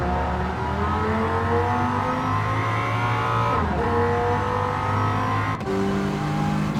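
Race car engines roar and rev through an endurance race in Gran Turismo 7, a loud continuous drone with shifting pitch as cars accelerate and change gear, alone without talk.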